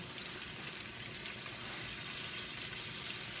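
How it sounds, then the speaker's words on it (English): Catfish frying in hot oil in a blackened skillet, a steady dense crackling sizzle throughout, close and fairly quiet with no voices. "Throw it in the hot oil."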